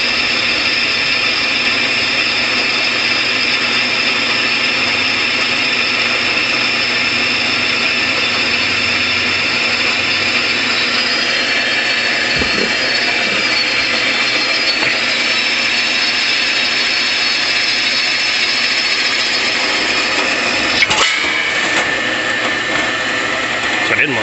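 A drill press grinds steadily through steel with a continuous high whine, broken by a couple of brief clunks.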